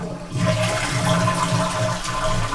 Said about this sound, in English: Next thing we do is go ahead and flush it.